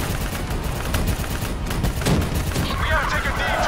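Call of Duty Black Ops 3 gameplay fills the clip with dense, continuous bursts of gunfire, mixed with other game effects and a faint voice in the background.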